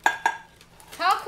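A metal frying pan is handled, giving two sharp clanks in quick succession, followed by a brief scraping rattle, close by and fairly quiet.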